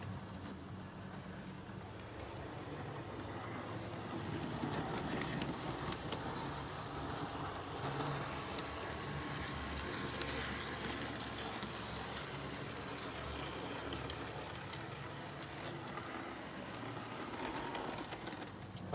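A Roco DB V200 model diesel locomotive running on a model railway track, with a faint, steady whirring hum and a soft rolling rumble that stays even throughout.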